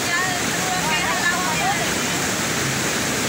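A river swollen in flood rushes past in a steady, dense roar of churning water that stays loud and close throughout, with no break in the sound.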